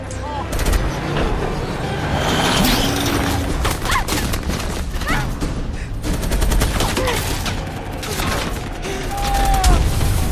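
Dense, sustained gunfire from a film action scene, with hundreds of bullets fired in rapid bursts, loud and continuous, with scattered impacts and mechanical clatter and some voices mixed in underneath.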